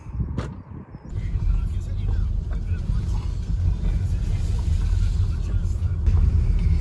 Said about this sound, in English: Well, just driving down the lane to Moatlands. Oh, God, it's so bumpy.